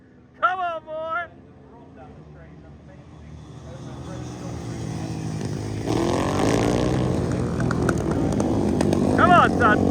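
A Royal Enfield motorcycle races along the straight in a Thunderbikes heat, its engine drone building from faint to loud as it closes in, with excited commentary and shouting over the top.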